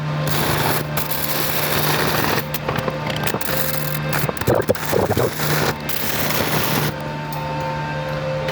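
Dense continuous crackling and buzzing from a first attempt at welding metal, loud and close for most of the clip, with a steady hum underneath and sharper pops in the middle.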